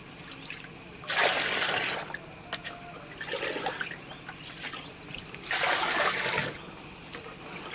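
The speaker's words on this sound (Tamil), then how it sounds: "இந்த ஊற வச்ச தண்ணி, அந்த இலை ஊற வச்ச தண்ணியை எடுத்து அதை வந்து ஒவ்வொரு தொட்டிலையும் வந்து ஒரு மக்கு இல்லைன்னா 2 பக்கு வந்து ஆட் பண்ணிக்கிறேன்" Leaf-soaked water poured from a mug into moina culture tanks, three separate pouring splashes of trickling water, each about a second long, with quieter dripping between them.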